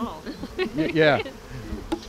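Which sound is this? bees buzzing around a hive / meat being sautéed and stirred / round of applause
bees buzzing around a hive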